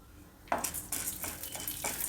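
Chana dal poured into hot oil in a pan, sizzling and crackling up close, with a few clinks of a spoon against the pan over about two seconds, no talk.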